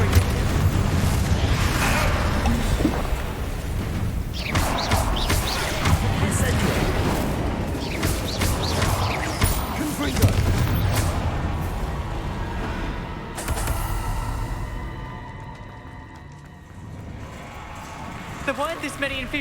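Confringo fire-spell blasts in the Hogwarts Legacy video game go off as repeated booming explosions with rumbling decay, mixed with other game noise across a busy stretch.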